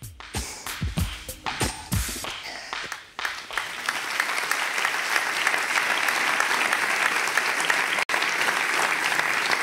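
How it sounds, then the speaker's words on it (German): Studio audience applause on a live talk show about back pain: a few loud individual claps at first, then the whole crowd joins in a dense, steady, sustained ovation that carries on to the end. "diesen Applaus habe ich mir wirklich einmal verdient"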